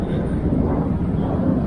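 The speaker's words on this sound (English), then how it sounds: "Oh, there's a jet again." Jet aircraft passing overhead above a square in Shengavit, Yerevan, a steady broad roar with rumble that holds at a fairly loud level through the whole stretch, mixed with some wind noise and no talking.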